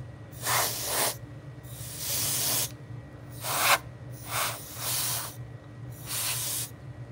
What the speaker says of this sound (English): spray the alcohol on there